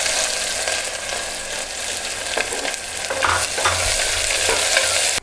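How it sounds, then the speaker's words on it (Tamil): Chopped small shallots frying in oil and stirred in a pan, a continuous loud sizzle with scraping stir strokes throughout and no talking. "இப்போ நம்ம வெட்டி வச்சுருக்கிற சின்ன வெங்காயத்தை ஆட் பண்ணிக்கலாம்."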